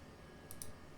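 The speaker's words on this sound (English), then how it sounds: "To post a new reply to the ticket, click into the reply field." Two quick, faint computer mouse clicks close together, heard alone over a low, steady background hiss.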